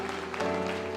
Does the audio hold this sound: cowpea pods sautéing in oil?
no